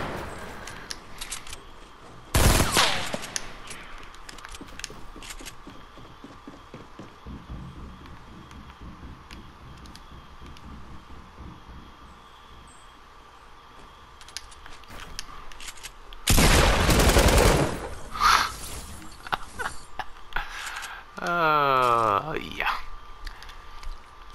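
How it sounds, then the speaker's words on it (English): Gunfire in the video game Fortnite, with a couple of loud isolated blasts separated by long stretches of quieter game sounds, while someone talks throughout. "It sounded like he was shooting me from that building."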